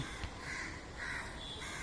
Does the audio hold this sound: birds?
yes